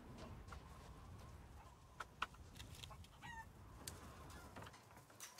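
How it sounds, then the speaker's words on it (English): Chickens cluck in the game Resident Evil Village, faint scattered clucks and squawks over a low ambient rumble, with no talking. "Chickens."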